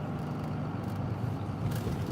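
Steady low road rumble inside a moving car, constant engine and tyre drone with no talk.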